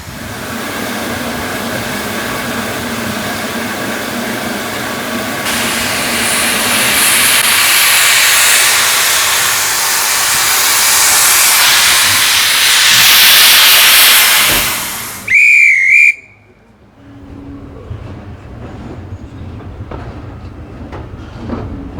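Steam locomotive on the North Yorkshire Moors Railway releasing a long, loud, swelling hiss of steam, then a short sharp whistle blast before the sound drops away to quieter rumbling.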